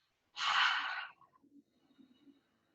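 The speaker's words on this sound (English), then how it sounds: "starting with an open mouth on the breath out, but then closing it halfway down" A single yoga exhale through an open mouth starts as a loud, breathy rush, then narrows into a quieter rasp as the mouth closes halfway, followed by faint soft breaths.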